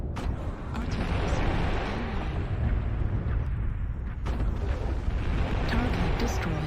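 Artillery explosions in MechWarrior Online on the Tourmaline Desert map, a sustained rumbling roar of blasts that fills the whole stretch, loud and dense, with some voices mixed in.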